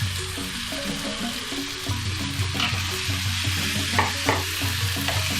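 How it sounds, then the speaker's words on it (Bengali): Vegetables frying in a pan with mustard paste for a Malabar spinach dish, a close, steady sizzle broken by repeated scraping and stirring strokes, with no talking. "সমস্ত সবজি দেখুন খুব সুন্দর ভাজা হচ্ছে। এবার আমি সর্ষে বাটাটা দিয়ে দিলাম।"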